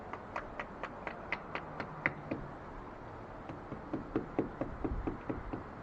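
A hammer drives a stake into garden ground while installing an automatic hose reel, with a series of sharp, evenly spaced knocks, pausing briefly and then resuming in a quicker run.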